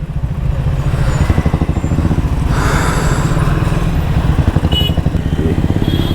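A Triumph Speed 400 motorcycle riding through heavy city traffic, its engine thrumming loud and close in an even pulsing beat that runs the whole time, with wind rush and passing traffic noise behind it.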